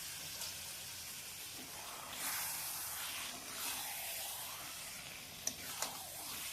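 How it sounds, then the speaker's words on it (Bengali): Chicken meat tipped into a hot spiced pan gives a soft, steady sizzling hiss with a few brief clicks near the end, fairly quiet and with no talking. "এবার মাংসগুলো সবটা ঢেলে দেবো।"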